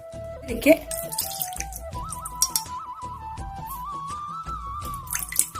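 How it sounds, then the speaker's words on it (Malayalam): Water is poured into a small pan, a close, steady stream whose pitch rises as the vessel fills, with a voice talking faintly over it. "ഇതിലേക്ക് കുറച്ച് വെള്ളം ഒഴിച്ചു കൊടുക്കാം."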